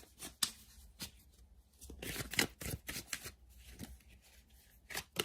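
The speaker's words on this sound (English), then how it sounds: "Let's lay out a couple cards from the universe." Tarot cards laid out for a daily reading, giving soft sporadic slaps, flicks and sliding rustles close by at a quiet level with short gaps between.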